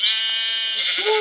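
A single short sheep bleat from the Minecraft video game, loud and close, with a wavering tone that lasts just over a second.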